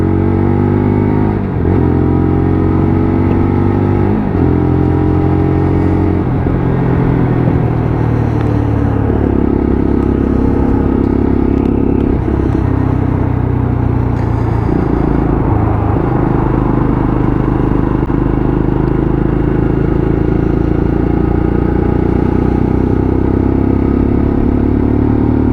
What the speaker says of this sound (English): Loving the sound of this bike purring away.